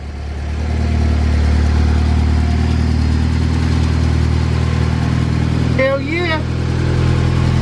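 A turbocharged Honda B20 VTEC engine conversion fires up for the first time and settles into a loud, steady, throbbing run close by, with a brief excited shout over it near the end.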